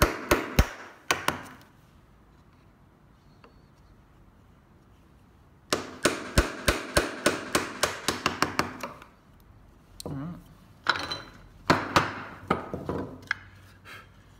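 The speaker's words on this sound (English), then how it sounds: "Should hear it and feel it click into the knife line." Sharp wooden taps and clicks come in quick bursts as a chisel is struck repeatedly into a knife line while hand-cutting dovetails in wood, with short pauses between the groups.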